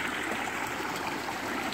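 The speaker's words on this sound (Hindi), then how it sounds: "बस सुकून से आवाज़ें सुने पानी की" A flowing stream, its water rushing and trickling in a steady, moderately quiet wash that continues unbroken, with no talk over it.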